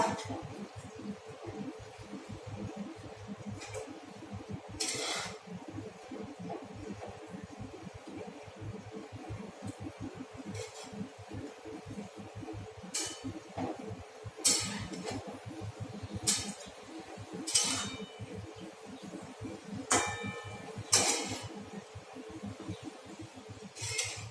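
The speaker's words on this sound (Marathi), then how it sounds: "मेथीची भाजी छान हलवून घेऊया" A spatula scraping and clinking in a pan while dry fenugreek (methi) bhaji is stirred, with irregular metallic taps and scrapes over a steady hiss of cooking.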